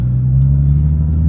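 Nissan 350Z engine rumbling steadily from inside the car while driving, a loud, deep, even drone with no talk.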